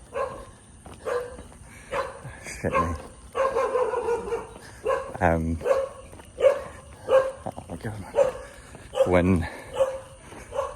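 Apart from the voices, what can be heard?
two groups of neighbouring dogs barking at each other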